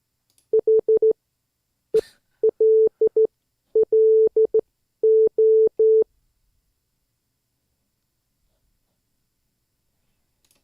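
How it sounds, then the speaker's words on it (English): Morse code tones sent by hand with a key: short and long steady beeps in grouped bursts, clear and alone, followed by silence. "you can do Morse code live with other people, and this is your key."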